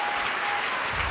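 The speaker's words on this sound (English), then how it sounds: "Round of applause." Brief burst of applause from a Toastmasters club meeting audience, dense steady clapping sustained throughout with no voices over it.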